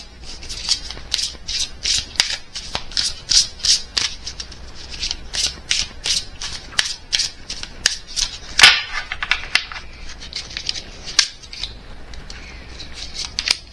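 Oracle deck cards are dealt into three piles, giving a rapid run of crisp snaps, flicks and slides of card stock close to the microphone, irregular and sharp, with a few louder slaps.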